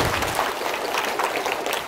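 Applause from a congregation at the closing Mass of a May Marian procession and flower offering at a Vietnamese Catholic parish: a dense, steady wash of many hands clapping, fairly loud and continuous throughout, with no voices over it.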